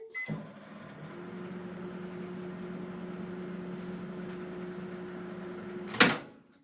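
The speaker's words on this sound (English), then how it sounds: "I'm just going to pop this back in the microwave for a second" A microwave oven reheating chocolate hums steadily for several seconds after a soft start, then ends with a sharp click or thud as the door or timer finishes. The sound is close and fairly quiet, with no speech.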